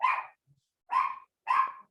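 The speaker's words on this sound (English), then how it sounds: "Got the dog pound over here." Three loud, close barks from dogs ring out alone in a quiet room, one at the start, then two more spaced about half a second apart.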